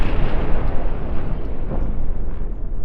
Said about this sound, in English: There goes our ammo storage.